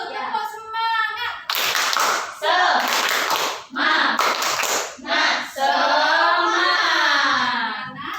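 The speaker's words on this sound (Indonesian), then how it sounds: "Kita tepuk semangat dulu." Students in a classroom perform tepuk semangat, a rhythmic clapping chant, with loud bursts of claps alternating with their chanting voices in a lively, close pattern.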